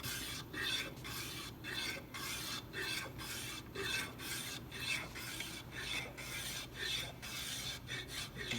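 Rasping strokes shape a wooden back strut, pulling off shavings in a steady rhythm of about two scrapes per second, close and continuous, with no talking.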